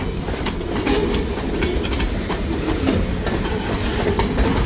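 A vintage freight train rolls past close by, a steady loud rumble of railcars with rhythmic clickety-clack from the wheels crossing rail joints throughout.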